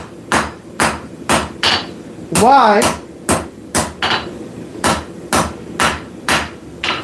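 A blacksmith strikes hot metal with a forging hammer in a workshop, a steady run of about a dozen sharp, ringing blows close by, briefly interrupted by a short spoken word.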